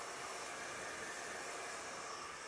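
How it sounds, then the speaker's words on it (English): A hand-held blow dryer blowing on hair makes a constant, even, airy roar that stays steady from start to finish. It is fairly quiet, with no voices. "Even if you take the blow dryer and you just hold it like this to blow dry the front"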